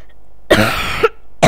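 A person coughs in a short, close burst of harsh rough coughs lasting about half a second, followed after a pause by the onset of another cough, with quiet room tone in between.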